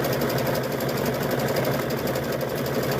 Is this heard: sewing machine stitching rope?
yes